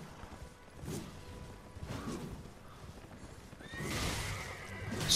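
A horse neighs and its hooves pound in the Elden Ring video game, with thudding gallop beats, rushing swooshes and a loud whinny near the end amid game combat noise.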